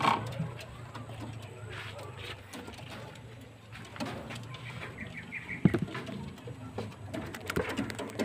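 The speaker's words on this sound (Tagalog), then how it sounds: "Yan mga kalapatis, yan." Racing pigeons kept by a breeder coo in low, throaty murmurs close by, with shuffling, ticking and small clattering sounds around them.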